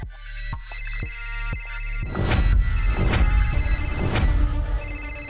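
A telephone ringtone rings loud and close, beginning with a few sharp tonal pulses and then building into a fuller, repeating melodic ring that carries on to the end.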